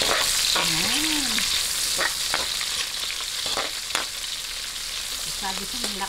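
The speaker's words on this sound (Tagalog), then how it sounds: "Isabihin lang po natin hanggang sa lumambot yung ating sibuyas." Onion sautéing in a pan for pancit canton makes a close, steady frying hiss with periodic stirring scrapes and clicks, and a faint tonal whine in the background; no talking.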